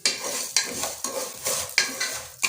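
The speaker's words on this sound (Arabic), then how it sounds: "كده الشعريه بقى داخله معانا على تحمير" Vermicelli fries in a pot with a soft sizzle while a utensil scrapes through it in regular sweeping strokes about every half second, close and fairly loud, without voices.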